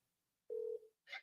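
A telephone ringback heard over a speakerphone call: one steady tone of about a third of a second, a short pause, then a brief higher burst, alone and fairly faint.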